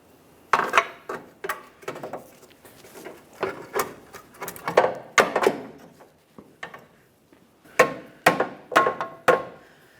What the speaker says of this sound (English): Couple light taps with a rubber mallet if necessary.